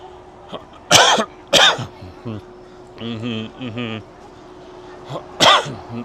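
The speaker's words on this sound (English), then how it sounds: "So on that cough right there" Three short, sharp coughs spaced apart, loud and close, with a low humming tone and murmured sounds between them.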